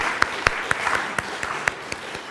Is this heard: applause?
yes